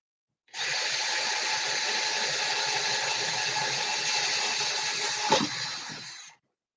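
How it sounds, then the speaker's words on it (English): A power tool runs while a laptop stand is being built, a steady loud whirring drone lasting about six seconds with a brief knock near the end before it cuts off. "Power tools are dangerous."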